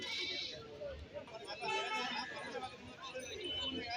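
Young goats at a goat market in Kerala let out short, high bleats over a busy background of crowd chatter, with someone talking close by.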